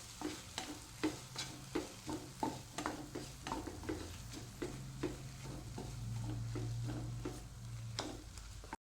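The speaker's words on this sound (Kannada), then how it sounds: "ಇದನ್ನು ಸ್ವಲ್ಪ ನಾವು ಈ ಟೊಮೆಟೊದೊಂದಿಗೆ ಫ್ರೈ ಮಾಡಬೇಕು" Chutney masala frying with tomato in a pan for egg chutney, with a steady sizzle under repeated scraping strokes of a spoon, close and fairly loud with no talk.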